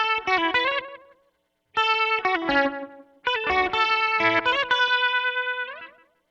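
Electric guitar through a small, cheap Flamma modulation pedal on its rotary setting, three bright chordal phrases with swirling, wobbling modulation and a light echo tail, close and fairly loud, separated by short gaps.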